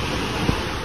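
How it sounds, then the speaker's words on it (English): Steady broadband ocean surf roaring without a break, with a brief low thump near the middle and no voices. "It's the ocean."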